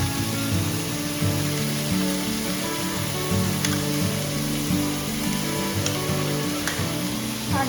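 Chopped onion and garlic frying in a pan for a Calcutta-style green chilli chicken dish, a steady close sizzle with a few small clinks of stirring, no voices.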